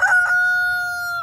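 A rooster crows once, close and loud, a sustained tonal call on a homestead with a faint low rumble beneath.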